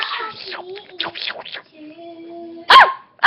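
A dog gives a few short, sharp yips and barks, with squeaky whining tones between them and one louder bark near the end, all close by.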